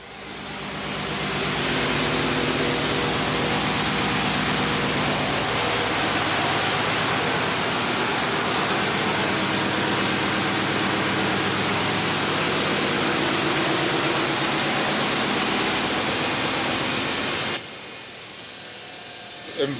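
Engine room machinery aboard the research vessel Maria S. Merian roars as a loud, steady, broadband drone, then drops abruptly to a quieter hum near the end.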